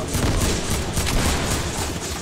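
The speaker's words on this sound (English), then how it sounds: "I'm getting shot from behind" Rapid gunfire in Fortnite gameplay, a dense, loud burst of overlapping shots filling two seconds with no pause.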